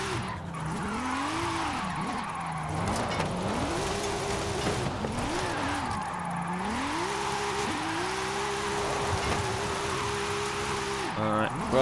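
Jaguar XKR-S GT in Forza Horizon 5 revving hard through a drift zone, its engine note rising and falling in repeated sweeps as the car slides through corners with tyre squeal, loud and continuous.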